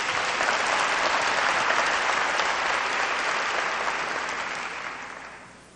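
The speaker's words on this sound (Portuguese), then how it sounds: "Uma salva de palmas para eles" A church congregation claps together in loud, dense applause that holds steady and then gradually fades out.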